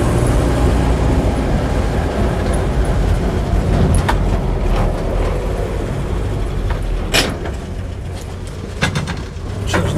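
A Land Rover Series 2a 88in hardtop driving, a steady low engine drone heard from inside, with a few clunks and clicks as a gear change is made partway through.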